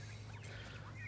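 Turkeys in a farm pen give faint gobbling calls over a steady low hum, quiet and somewhat distant, with no talking.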